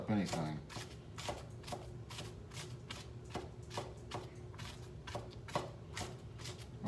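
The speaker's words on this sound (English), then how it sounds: "Be careful when you're cutting up onions" A knife chops onions on a cutting board while making keto zucchini tots, giving a steady run of sharp, close taps at an uneven pace under ongoing kitchen talk.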